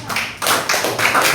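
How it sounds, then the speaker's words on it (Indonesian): A classroom of children clapping hands together in a few short bursts, close and fairly loud, with brief pauses between rounds. "tepuk tangan untuk kita semua"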